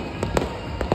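Firecrackers bursting outside during a celebration give several sharp bangs over a dense, continuous background of crackling in one short burst.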